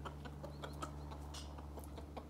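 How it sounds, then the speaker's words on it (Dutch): Hens and a rooster cluck softly and sporadically while being given food outdoors, the bird calls faint and scattered over a steady low hum. "Maar Kukkel, de haan, is een beetje een eigenwijze haan, moet ik zeggen"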